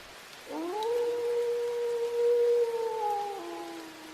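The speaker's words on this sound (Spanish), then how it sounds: "escuchó no uno, sino muchos aullidos que parecían como de un animal que estaba sufriendo demasiado." A long, drawn-out animal howl rises sharply then holds a steady wavering pitch for about three seconds, loud and clear over a quiet background, a mournful wail used as a horror story sound effect with no talking.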